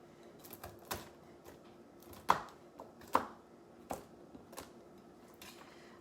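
Knife chopping carrots on a cutting board for a keto carrot cake: a handful of sharp, irregular knocks, two louder than the rest, spaced over several seconds with quiet gaps and faint kitchen background.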